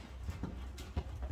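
A horse being lunged strikes the ground with soft, irregular hoof thuds, a few muffled clip-clops close by over a quiet background.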